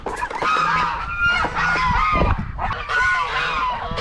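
Crested blue drake ducks calling loudly and continuously at close range, a dense overlapping chorus of harsh honking quacks.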